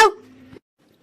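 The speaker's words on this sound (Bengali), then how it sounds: "কুকুরগুলো চিল্লাতে শুরু করলো" A cartoon dog gives one short, loud bark near the start, followed by a softer held whine that fades into silence.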